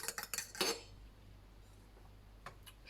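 Utensil clinking against a bowl while mixing oat milk shower gel ingredients, a quick burst of sharp metallic taps and scrapes up front, then near quiet with a couple of faint clicks later.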